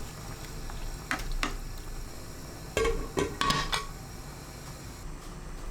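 A pot lid clanks shut with a few close, sharp metallic knocks over a pot of sliced lotus root, water, minced garlic, soy sauce and anchovy fish sauce, against a steady low background hiss.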